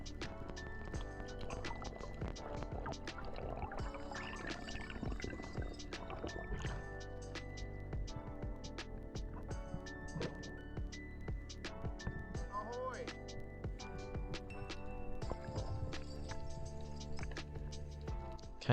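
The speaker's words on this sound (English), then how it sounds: "I did hear a boat engine that was reasonably close" Boat engine heard underwater near Great Barrier Island: a continuous droning hum with layered tonal whine runs throughout, dotted with clicks and crackles from the surrounding water, fairly close and steady.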